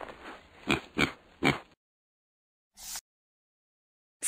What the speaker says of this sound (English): Do you see the pig?